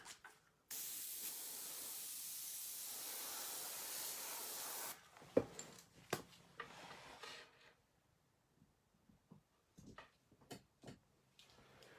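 Grex airbrush spraying paint onto a skateboard: a steady, loud hiss for about four seconds, then scattered clicks, taps and handling noises as the work shifts.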